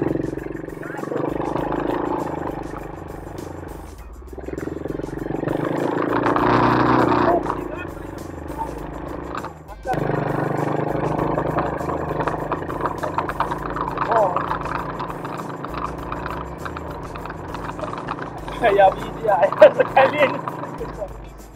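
Avantis Hunter 8+ quad bike engine revving and droning steadily in a forest, rising in bursts around the middle and near the end, with people talking over it throughout.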